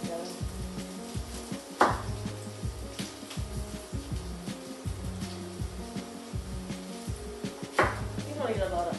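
Knife dicing an onion on a cutting board, a quick steady series of soft chopping knocks with a couple of sharper clacks, close by and fairly quiet.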